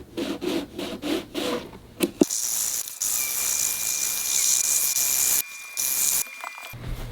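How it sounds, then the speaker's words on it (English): Sanding Fender tweed tolex with 220 grit sandpaper taped to a wooden block: a few rhythmic rubbing strokes, then a sustained close, hissy scraping that pauses briefly and resumes, with no talk. "taken a block of wood and used double-sided sticky tape and put a 220 grit piece of sandpaper on the bottom"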